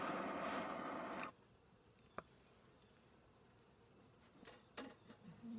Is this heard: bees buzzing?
yes